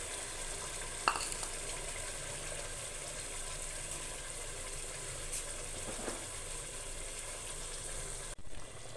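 Homemade paste of two pureed tomatoes sizzles and fries steadily in a hot pan, a continuous crackling hiss at moderate level with a couple of brief stirring scrapes.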